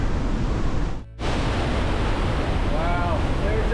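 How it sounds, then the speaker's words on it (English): Powerful waterfall roaring inside a mountain in the Swiss Alps, a loud, dense rush of water noise that cuts out for a moment, then resumes and carries on steadily. "there's just tons and tons of water just spilling out of the mountain"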